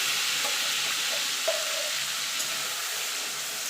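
Banana stem paste hits hot oil in a pan with lightly fried shrimp, giving a steady, close, bright sizzle with a few soft clicks of stirring and no voices.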